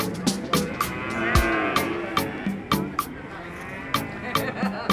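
Cattle moo repeatedly, long low drawn-out calls close by, over a busy background of clattering, rattling noises and murmuring people at a livestock market in Sleman, Indonesia.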